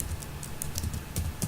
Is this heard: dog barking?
no